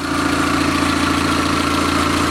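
A carbureted car engine, converted from fuel injection and computerized coil-pack ignition, idles steadily and loudly with a continuous rumble and even low pulsing, close up and with no talking.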